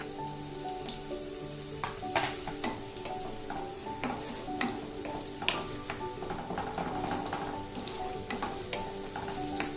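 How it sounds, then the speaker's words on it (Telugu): Sliced onions fry in hot oil with cinnamon for a green peas curry, a steady close sizzle broken by frequent stirring taps and scrapes of a spoon against the pan. "ఆనియన్స్ని బ్రౌన్ కలర్ వచ్చేంత వరకు ఫ్రై చేసుకోవాలి."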